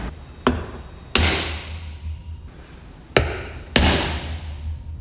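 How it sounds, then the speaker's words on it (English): A hammer strikes a center punch into metal in a workshop, several sharp, ringing taps spaced irregularly, close and loud with no talk. "We'll get a punch, put a center punch in that"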